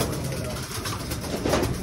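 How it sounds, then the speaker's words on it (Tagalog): Pigeons cooing inside a loft, soft low coos close by under a steady hum, with someone talking nearby. "Ay mga ibon natin par."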